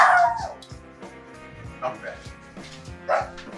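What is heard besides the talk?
dog barking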